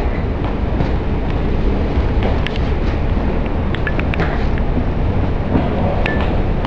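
A train rolls on while passengers board, with a dense, loud rumble, rhythmic clickety-clack from the wheels and scattered metallic squeals throughout, and no speech.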